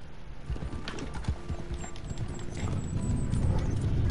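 Hooves clop in a steady rhythm as a horse moves at close range, the footfalls sounding over a rumbling background that grows louder near the end.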